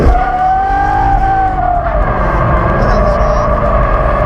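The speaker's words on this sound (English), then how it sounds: "So just rev it up a little bit" Supercharged 700-horsepower drift car engine revs steadily and loud, a sustained high drone with a slight pitch rise then settle, close and continuous throughout.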